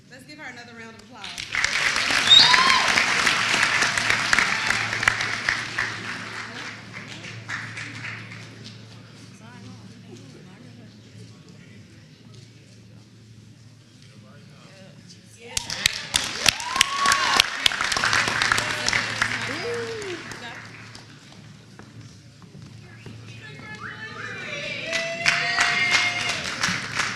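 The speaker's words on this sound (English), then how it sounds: "Let's give her another round of applause." Crowd applause for Miss UNCF 2025 at a Wiley University chapel service comes in separate waves, rising and fading between stretches of quieter room sound, with a voice speaking in places.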